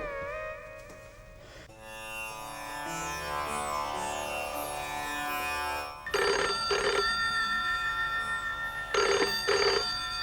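A telephone rings loudly in repeated electronic trills, with a musical ringtone-like tone underneath and pauses between bursts; no one speaks.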